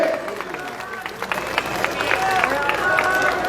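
Loud crowd applause and cheering fill a political welcome rally for a BJP candidate in Malkheda, a dense continuous wash of clapping with shouts rising over it throughout.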